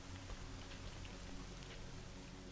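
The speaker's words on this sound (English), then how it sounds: "Oh, finally, cover from the rain." Rain falling in S.T.A.L.K.E.R.: Shadow of Chernobyl, a faint, steady hiss of drops pattering on surfaces with no other sounds over it.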